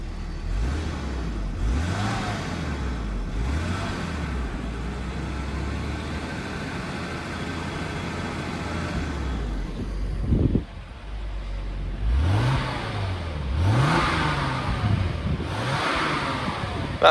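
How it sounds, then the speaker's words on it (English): A Daimler XJ40 saloon with the 3.6-litre AJ6 engine and automatic gearbox idles steadily, then is revved in a series of swells, with one sharp blip near the end followed by more rising and falling revs. The engine is close and there is no talk. "As you can hear, the car is running."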